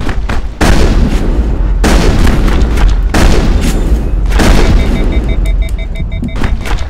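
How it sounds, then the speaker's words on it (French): Shotgun blasts in the Mass Effect video game, several loud booming shots about a second apart, each ringing out over heavy rumble with faint electronic tones near the end. "Fusil à pompe, fusil à pompe."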